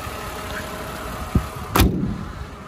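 A Mercedes-Benz W124 E280 idles smoothly and steadily nearby, with a low engine hum that is interrupted by one sharp bang and a brief thump.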